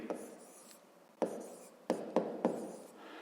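Pen strokes writing a fraction during a fifth-grade maths exercise, heard as quiet scratching with several sharp taps and short strokes in an irregular rhythm, close and soft.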